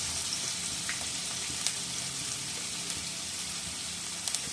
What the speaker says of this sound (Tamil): ஒரு தக்காளி, ஒரு பச்சை மிளகாய் போட்டு நல்லா வதக்கிக்கணும்.